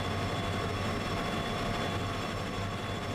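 A heavily loaded locomotive in the Derail Valley video game: a constant, heavy, low mechanical rumble and drone with a steady tonal hum, unchanging and alone, with no voices.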